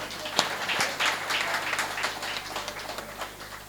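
An audience at a Hindi poetry gathering (kavi sammelan) in Rohini breaks into applause after a poem, a steady patter of many hands heard at moderate distance with a few sharper individual claps.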